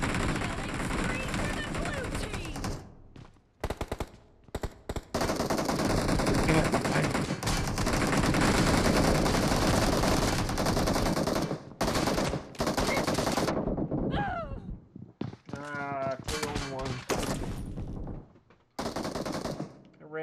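Gunfire in PUBG New State, long sustained automatic bursts broken by short pauses and loud in the foreground, with a player's voice talking in the gaps.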